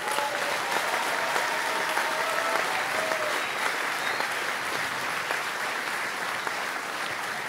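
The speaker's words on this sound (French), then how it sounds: "et on peut les applaudir aujourd'hui." Sustained audience applause fills a French political rally speech, steady and dense clapping from a large crowd throughout, with no talk over it.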